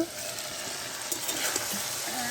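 Potato and pointed gourd fry in a pan, a soft continuous sizzle with light stirring clicks and scrapes, close but fairly quiet.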